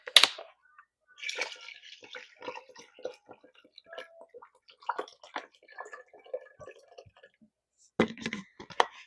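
Water is poured into a cooking pot of rice and washed lentils in short bursts of splashing and trickling, close and fairly quiet, with pauses between pours.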